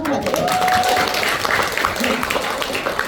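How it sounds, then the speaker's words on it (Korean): Audience applause at a company celebration event, a dense steady patter of many hands clapping continuously throughout, fairly loud and filling the room. "이것도 자축의 박수 한번 하고 가세요."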